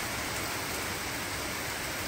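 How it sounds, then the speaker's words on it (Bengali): Rain falling hard outdoors, a thick constant wash of hissing drops with no pauses or voices. "এত বৃষ্টি হচ্ছে বাইরে"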